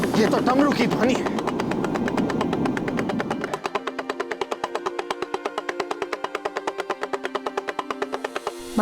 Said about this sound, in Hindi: ये तो डमरू की ध्वनि है